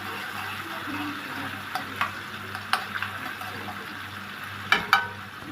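Garlic sizzles in a spoonful of country ghee for a trotter sauce, a soft, steady frying hiss punctuated by light clinks and taps of a spoon stirring the pan.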